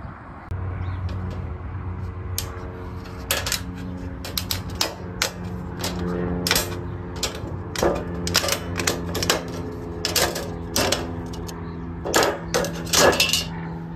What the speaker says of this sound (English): I'll bend it back and forth, and it should break right off on that seam